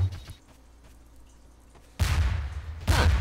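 Line bombs go off in the Melon Bomber video game: after a quiet stretch, two loud bursts of explosions follow close together near the end.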